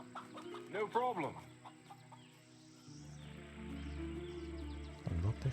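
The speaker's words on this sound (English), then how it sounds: "A lot of chicken." Chickens cluck in the fantasy RPG Swordhaven: Iron Conspiracy, with a few clear calls early on, then a low droning game ambience and another short burst of clucking at the end. A voice talks over part of it.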